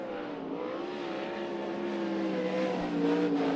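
A race car runs a timed qualifying lap at Knoxville, its engine a sustained steady drone heard from a distance that swells slightly louder toward the end.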